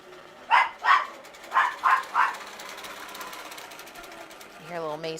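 A small dog barks five times in quick, sharp yaps nearby, set against the steady hum of a longarm quilting sewing machine running in a home studio. A person begins speaking at the very end.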